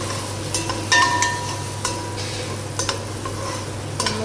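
Chopped onion sizzles in a frying pan on a camp stove outdoors during a camping trip, a steady loud frying hiss broken by a few clinks and stirring scrapes of the utensil against the pan.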